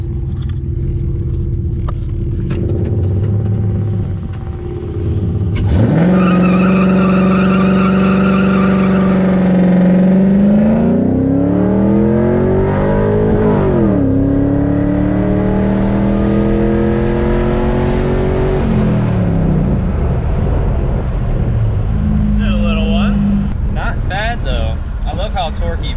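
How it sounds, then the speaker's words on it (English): A 1998 Pontiac Trans Am WS6 V8 on Mickey Thompson tires revs hard into a burnout, its engine note climbing and sweeping up and down for several seconds, loud and close, with voices talking over it inside the car. "we're gonna do a freaking burnout"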